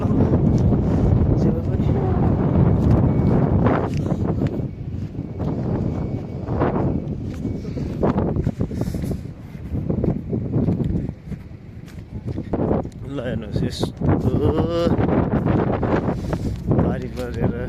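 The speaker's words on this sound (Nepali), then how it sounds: "चिसो हावा चल्दैछ। निकै हावा जाडो छ मौसम चाहिँ।" Cold wind gusting steadily outdoors on a chilly evening after rain, a continuous rough rumble that swells and eases, with people talking intermittently over it.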